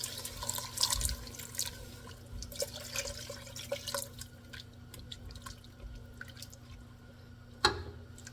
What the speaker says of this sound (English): now we're gonna pour 2 cups of chicken broth or stock